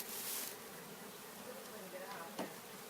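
A mass of honeybees near their hive keeps up a constant droning buzz, with a brief louder rise early on and a short sharp knock near the end over the steady hum.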